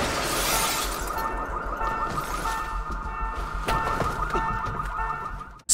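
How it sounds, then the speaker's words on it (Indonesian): A car alarm blares steadily and loudly, its warbling tone running the whole time with a crash of breaking glass at the start. "alarm anti maling di mobil itu terlalu keras sehingga terdengar oleh Samidi"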